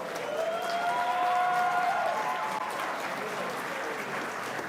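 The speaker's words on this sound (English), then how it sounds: "we were going to give them all an applause" A crowd at a North Texas FTC robotics tournament applauds as the teams walk out, dense sustained clapping throughout with a few voices calling out over it.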